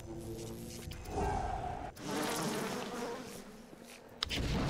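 Insect swarm attack in the video game BioShock, a loud buzzing drone of bees that rises and sustains, broken by brief sharp game effects.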